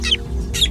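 A drongo gives a warning call to meerkats as an eagle hunts overhead: two short, sharp, harsh calls about half a second apart over a low background rumble.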